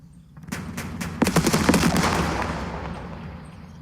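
Artillery area fire in the Second Front wargame, a burst of rapid overlapping gun reports that swells in the first half and then decays into a rumbling tail, with no talk.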